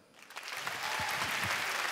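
A comedy show audience breaks into applause, a quick swell of clapping that rises within half a second and then holds steady, with a few low thumps mixed in.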